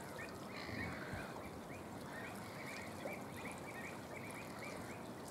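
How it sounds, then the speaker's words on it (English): Common shelduck calling at RSPB Titchwell Marsh, Norfolk, a run of repeated nasal calls at moderate distance over steady wetland ambience, with no talk. "Shell duck."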